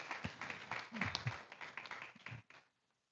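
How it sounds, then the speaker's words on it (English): An audience at a Krishna Katha gathering claps for Mata, a quiet, uneven patter of hands with louder thumps mixed in, lasting a couple of seconds before it stops and the room falls still. "Can we have a round of applause for Mata?"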